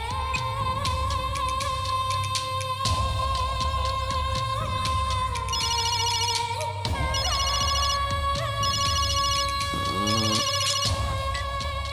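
A phone ringtone plays steadily through a call in a Tamil TV serial scene, a loud electronic melody with repeating tones that continues for the full twelve seconds with no talking over it.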